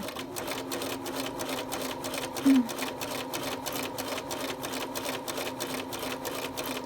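A sewing machine stitches mini piping, its needle running at a steady, rapid rhythm that stays even throughout, close up, with a brief bump partway through and no clear talk.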